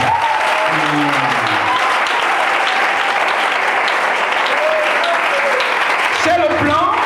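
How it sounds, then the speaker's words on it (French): Audience applause fills a church sermon hall, a steady dense wash of clapping and cheering acclaiming Jesus throughout, with a few brief voices rising near the start and end. "On acclame Jésus."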